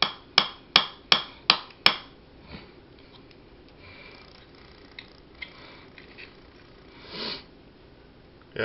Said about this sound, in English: as you hammer in your roll pin